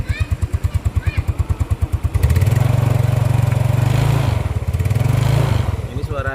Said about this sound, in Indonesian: Nih, suara mesinnya seperti ini.